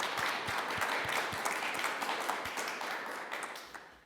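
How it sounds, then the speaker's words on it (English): An audience at a Safe Streets community meeting gives the speakers a round of applause, a dense, even spread of clapping that holds for a few seconds and then tapers off near the end. "give our speakers another round of applause real"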